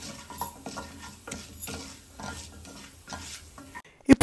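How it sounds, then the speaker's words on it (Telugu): Chana dal, urad dal and mustard seeds fry in oil for a tempering, giving a soft, intermittent crackle and spatula scraping in a pan, ending with a couple of louder clanks. "పోపు కోసం ఫస్ట్ నేను శనగపప్పు యాడ్ చేసుకుని శనగపప్పును వేయించేసుకుంటున్నాను."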